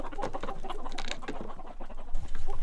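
Chickens kept by a village livelihood group cluck and squawk close by in a busy, overlapping chorus, with a louder burst of calls near the end and no one speaking.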